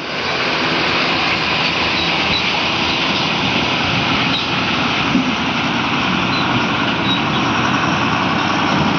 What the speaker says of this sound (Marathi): त्याच्यामुळे थोडंसं एक किलोमीटरपर्यंत ट्रॅफिक जाम देखील होत आहे